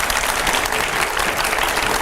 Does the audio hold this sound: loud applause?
yes